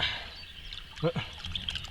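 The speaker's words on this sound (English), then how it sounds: "And dropping chub in the water" A chub caught while barbel fishing on the River Wye is dropped back into the river, making a brief close splash and trickle of water at about the one-second mark, with someone talking around it.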